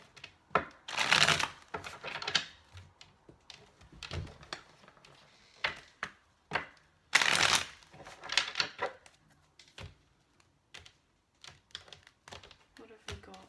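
Tarot cards being shuffled by hand in a few loose, uneven bursts of riffling and flapping, with soft clicks and slides between them and a quiet voice speaking now and then.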